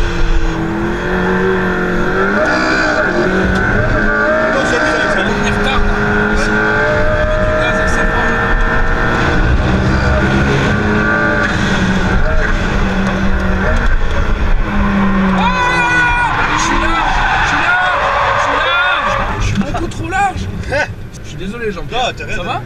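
A McLaren P1 drifts with its engine roaring steadily and loud for most of the run, tyres squealing along with it, then the noise eases near the end; people talk over the top.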